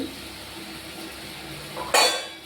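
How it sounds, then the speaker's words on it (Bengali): Spice paste with green chilli paste stirred and fried in a pan, a steady low scraping fizz capped by a sharp metallic clink of utensil against pan near the end. "এবারে আমি মশলাটা ভালো করে কষাবো।"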